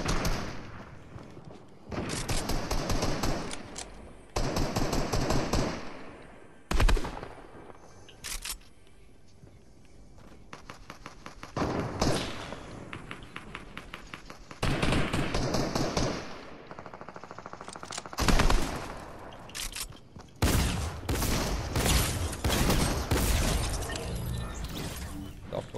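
Repeated bursts of gunfire in a Fortnite-style shooter game, sharp cracking volleys and rapid strings of shots arriving in clusters with quieter gaps between, fairly close and loud.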